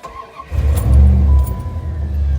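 A 1995 Dodge 5.9L 360 V8 truck engine with welded Thrush mufflers cranks and fires up into a deep, rumbling idle with a burbling exhaust, close by and loud.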